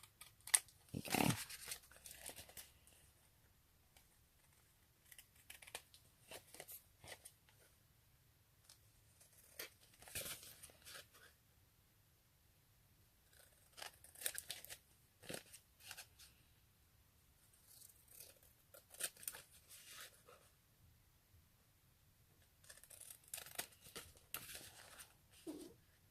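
Scissors trimming the edge of a paper journal page at a craft table, giving soft intermittent snips and paper rustles in short bursts separated by quiet pauses.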